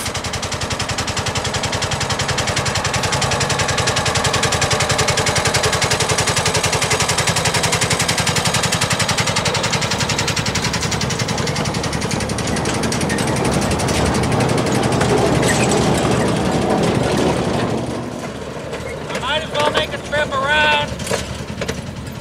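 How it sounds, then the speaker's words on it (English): A Hurlbut 15-inch gauge miniature locomotive runs close by, a loud, rapid, rattling engine chatter that holds steady before dropping off near the end, followed by scattered clanks and a voice. "the mighty Hurlbut 15-inch gauge locomotive"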